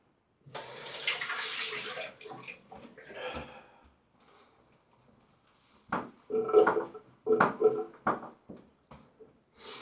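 Water splashes and runs briefly at the start, followed by a pause and then several short wet dabs and patting sounds up close.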